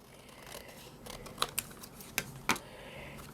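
Scissors snip through paper while making an altered matchbox craft, several close, crisp cuts coming in a loose rhythm over quiet room tone.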